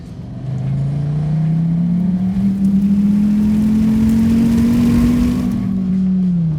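A 2014 Dodge Viper GTS engine pulls hard under acceleration, a loud, close, steady rising drone with no voices.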